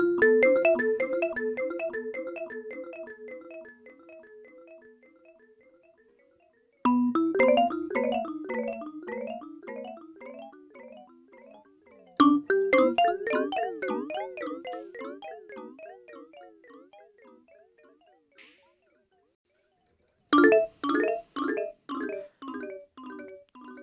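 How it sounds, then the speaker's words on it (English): An Access Virus Ti synthesizer plays repeated note patterns through its delay effect, with an oscillator modulating the delay time. The echoes decay and warble and shift in pitch across several bursts separated by short pauses, with no voice. "what you're hearing here is the delay. The time of the delay is being modulated by an oscillator."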